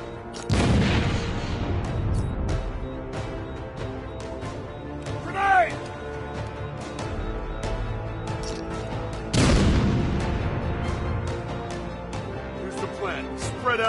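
A grenade detonates in Batman: Arkham City, with a heavy blast near the start and another loud explosion later, set among combat sounds and shouting voices.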